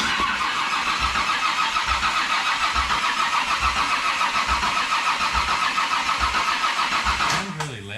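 A cammed Ecotec turbo engine cranks, catches and runs loud with a rough, choppy rhythm, then cuts off abruptly near the end.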